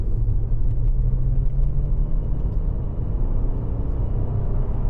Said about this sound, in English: Oh, the sound from VR6